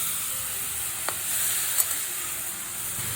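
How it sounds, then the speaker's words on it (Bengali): Ash gourd sautés in a pan over a medium-high flame, giving a steady, even sizzle throughout, with a couple of small clicks from the pan and no talking. "এখন চাল কুমড়োটা আমি একটু সাঁতলে নেব।"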